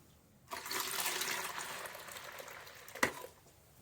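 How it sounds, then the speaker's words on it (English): Hot water pours steadily into a bucket for a few seconds, a broad rushing splash, ending with a brief louder knock. "I'm going to add hot water."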